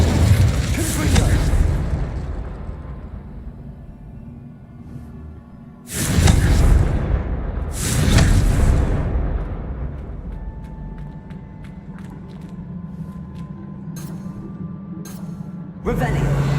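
Explosive blasts from the Confringo fire spell in the Hogwarts Legacy video game, several loud booming bursts spaced a few seconds apart, with a voice talking in between.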